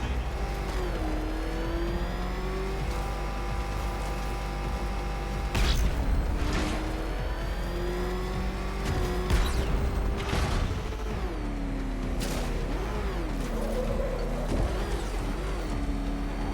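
A Batmobile engine in Batman Arkham Knight revs and drones steadily, its pitch rising and falling with throttle, loud and continuous, with a few sharper bursts and whooshes over the sustained motor tone.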